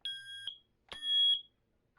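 A smoke alarm sounds its fast temporal code 3 pattern, two loud, close electronic beeps, each about half a second long, separated by a short gap and followed by silence.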